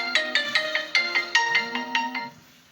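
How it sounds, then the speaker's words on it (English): A mobile phone ringtone plays a bright, repeating electronic melody of short pitched notes, fairly close and clear with no talking over it, then trails off toward the end. "so my phone is ringing"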